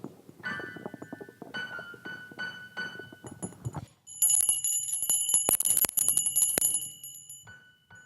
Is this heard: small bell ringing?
yes